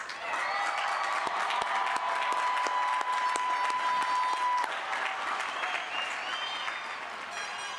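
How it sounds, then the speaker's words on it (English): Sustained applause from a large commencement audience for the College of Business Administration graduates, dense steady clapping that holds strongly before easing slightly, with a faint tonal whine running through the first half. "let's give a final round of applause for our graduates"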